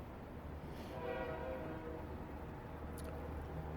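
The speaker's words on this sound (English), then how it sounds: "That's a train noise in the background, but it's almost a tugboat noise." A CN train sounds its horn in the distance, a faint sustained tonal blast over low rumbling background noise, with no talking.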